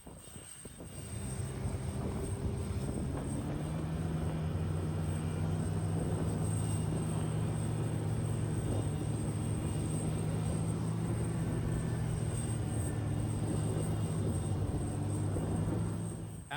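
An Ilyushin aircraft landing on the Novolazarevskaya blue ice runway in Antarctica, a loud steady engine roar with droning tones heard from inside, building in the first moments and then holding to the end.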